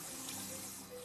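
Tap water runs steadily at a hair-washing basin, a continuous close splashing flow with no voices over it.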